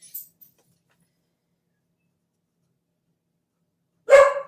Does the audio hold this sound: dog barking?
yes